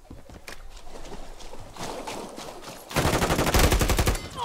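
Rapid video game gunfire in a multiplayer match on a new map, bursts rattling under a steady bed of noise and growing into a loud, dense volley near the end.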